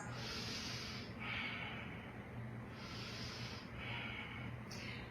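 Slow, deep breaths during a gentle yoga stretch, long airy inhales and exhales repeating in a calm rhythm, soft and close over a quiet background hum.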